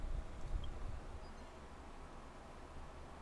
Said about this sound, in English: There's a lot of white noise in the background today.